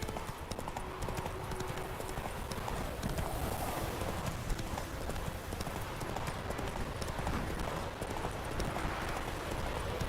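Roach, a horse in The Witcher 3, gallops with a steady, rapid clip-clop of hooves on a continuous bed of ambient game noise, close and fairly loud throughout.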